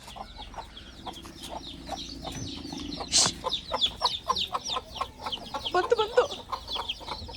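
Chicks peep and cluck in quick repeated calls at a temple fair chick-catching game, with crowd noise around, a sharp burst near the middle and a busier flurry toward the end; a voice speaks briefly.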